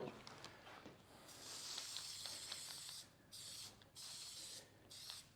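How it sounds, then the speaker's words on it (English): Aerosol can spraying in steady hissing bursts, a long spray followed by several shorter ones with brief pauses, close and fairly quiet. "Spray it here."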